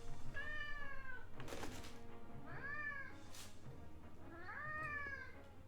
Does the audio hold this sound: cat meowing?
yes